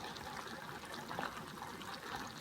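Boiled water poured onto rice that has been soaked for two hours, for a vegetable pilaf, a soft, steady trickling stream heard close but quiet.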